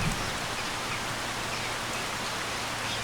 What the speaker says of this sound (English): standing in this field, listening to the rain and the birds, pigeons